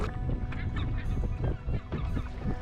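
Agitated seagulls near a nesting island on Great Slave Lake squawk harshly in a dense, overlapping chorus. The calls are loud and close and keep going without a break.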